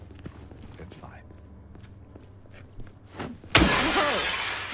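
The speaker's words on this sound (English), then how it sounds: "You need to break the glass to enter into room 108" Glass shatters loudly in Silent Hill 2 Remake, a sudden crash near the end that breaks a window at a motel, following quieter footsteps and ambient game noise.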